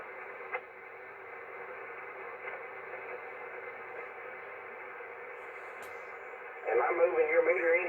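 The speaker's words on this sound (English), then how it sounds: "there's a lot of pretty loud static" Steady hiss of loud static on a 10-meter amateur radio receiver connected to a new beam antenna, a continuous band-limited rush with a few faint clicks and a brief louder burst near the end.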